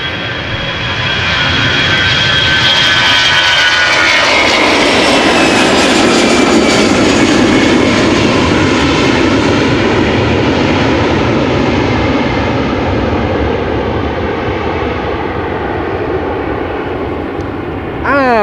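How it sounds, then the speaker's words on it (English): Jet engines of a Chinese Airbus A350 at Schiphol Airport build to a heavy, loud roar that swells after a few seconds and holds steady, a broad rumbling wash with a high whine, gradually tapering near the end. "Now there's a Chinese A350 on the move"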